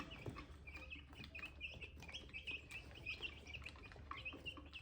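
Cornish Cross meat chicks, seventeen days old, chirp continuously in a brooder, a busy chorus of high peeps over a low steady hum, quiet and close.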